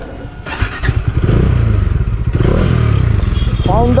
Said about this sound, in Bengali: আজকে এইটা হলো রাইড করব আমি Dominar 400